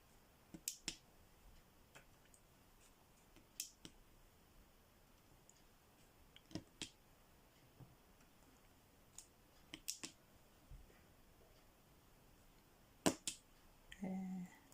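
Sharp, scattered clicks from filling in bits of a work in progress, arriving singly and in small pairs at irregular intervals over a quiet background, fairly faint, with no talking.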